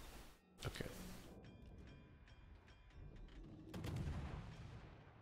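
Naval guns from a warship fire in the video game World of Warships, with sharp reports near the start and a heavier rumbling salvo later, set against steady faint background engine noise.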